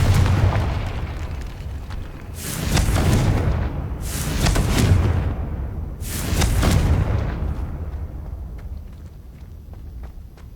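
Confringo blasting spell explosions in Hogwarts Legacy, three loud booming blasts about two seconds apart over a continuous rumbling game background, each fading away.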